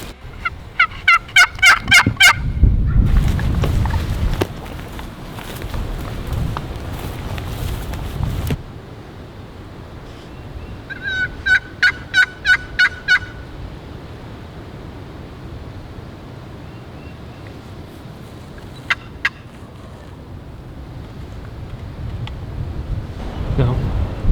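Wild turkey gobbler calling from a roost in gusty woods, with a few rapid rattling gobbles near the start and another burst midway, plus a faint short call later, over loud wind noise and some rustling.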